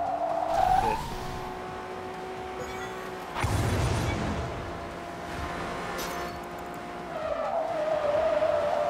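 A drift car in the racing video game Blur skids with sustained high tire squeals over a steady engine drone, loud at the start and end, with a brief burst of impact noise midway.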